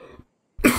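A single sharp cough from someone who is sick bursts out close and loud after a brief silence, with a faint low murmur just before it.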